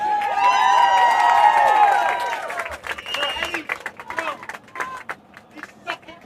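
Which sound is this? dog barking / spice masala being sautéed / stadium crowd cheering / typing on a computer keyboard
stadium crowd cheering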